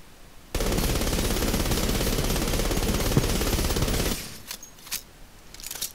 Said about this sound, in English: The submachine gun has the highest fire rate and lot of ammo,